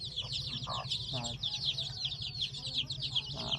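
Nearby soft clucking from a hen mixed with a steady chorus of high, rapid peeping chicks, continuous and lively.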